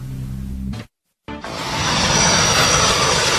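A brief low hum cuts to a moment of silence, then a broad, steady engine roar swells in and holds, like a plane passing nearby.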